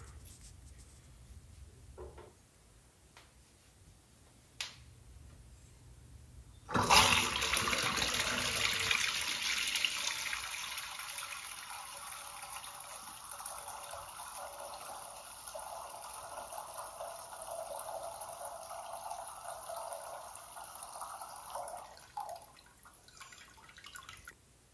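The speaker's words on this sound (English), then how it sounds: "So this flush, I flush first and then add the drops." Toilet flushing with dyed water: a few small drips, then a sudden loud rush of water that settles into a long steady refill hiss before tapering off near the end.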